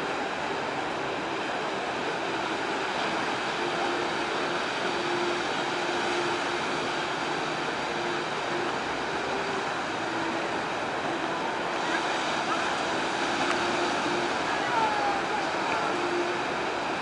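Sea waves wash steadily at Mar del Plata under a full moon, a continuous broadband surf roar with no distinct breaks, fairly loud and even throughout.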